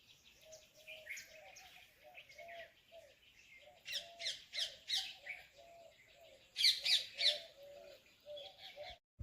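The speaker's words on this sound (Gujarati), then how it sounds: "જો પક્ષીઓ કેવો કલરવ કરે છે" Birds chirp and twitter in repeated bursts, with a steady cooing call looping low underneath; a busier flurry of chirps comes near the end. No talking.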